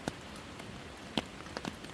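Rain in a Korean pine forest, heard as a soft steady patter with a few sharper drips landing on nearby surfaces, fairly quiet and with no voices.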